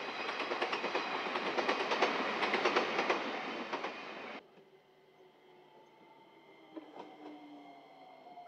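Loud rumbling clatter of a train on the Nippō Main Line in Kyushu, Japan drops suddenly to a quieter steady hum with faint creaks and a brief squeal.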